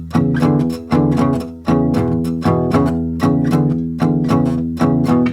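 Electric guitar plays a blues long shuffle riff in a 12-bar blues form, with a steady loping rhythm of repeated low chord stabs, close and clear, with no voices.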